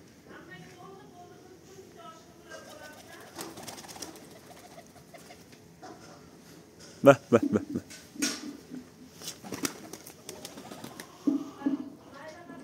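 Domestic pigeons kept at a house coo in low throaty bursts, close by, with some wing flaps and scuffling, while someone talks over and between the calls.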